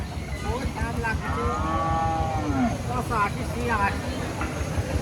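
A cow lets out a long, loud moo at a busy rural cattle market for local desi and Sahiwal cattle in Rustampur, Rajshahi, with crowd chatter and voices continuing underneath the lowing.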